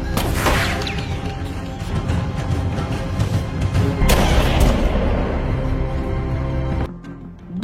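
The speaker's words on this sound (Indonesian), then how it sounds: "Dan pada akhirnya si Nyonya Duningan itu pun tewas ditembak oleh seseorang" Gunshots in a western film, loud booming reports over a dense, continuous soundtrack, with a second heavy burst midway before the sound drops off abruptly.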